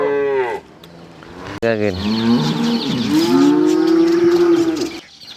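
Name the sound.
Ankole/Girolando cow mooing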